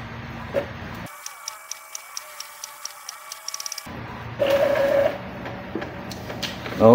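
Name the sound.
Epson L5290 printer printing a page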